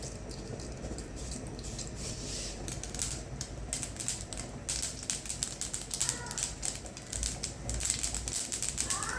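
Mustard seeds pop in hot coconut oil in a pan as a spinach dish is cooked in a home kitchen. Dense, quiet, irregular crackles and snaps come in uneven bursts without speech.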